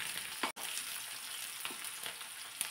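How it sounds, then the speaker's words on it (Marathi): Thinly sliced onion sautés in a pan with a steady, soft sizzle and occasional faint stirring ticks. It is close and quiet, with a momentary dropout early on. "थोडासा लालसर कलर येईपर्यंत कांदा परतून घेतला"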